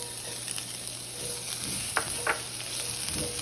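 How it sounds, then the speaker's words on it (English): Garlic sautés in oil in an Instant Pot for Filipino sisig, a steady close hiss of sizzling broken by a few sharp scraping stirs. "We're going to saute the garlic for about 1 to 2 minutes"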